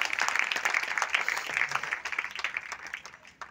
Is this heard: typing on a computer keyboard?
no